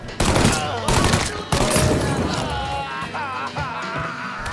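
Gunfire in a shootout in the video game Mafia III: loud bursts of rapid shots and sharp cracks crowd together, with someone talking over the din.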